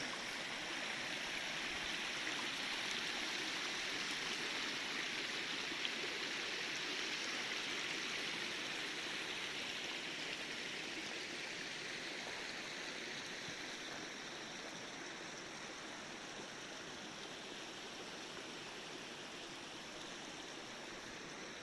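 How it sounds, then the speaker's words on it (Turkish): A small stream flows steadily near a village at the Yusufeli Dam area, a continuous broad rushing and trickling wash of water, fairly close and constant throughout with no talk. "Buradan bir küçük bir su akıyor."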